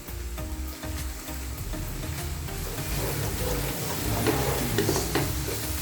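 Crushed red chili is stirred into aloo gobi (potato and cauliflower) frying in a pan, giving a steady close sizzle with soft scraping stir noises that grow slightly louder toward the end.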